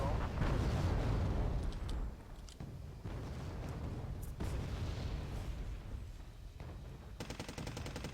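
Artillery and gunfire from the war game Wargame Red Dragon, heard as a dense opening barrage of booms and rattling shots. It settles into scattered blasts and bursts layered over a rumbling battle background.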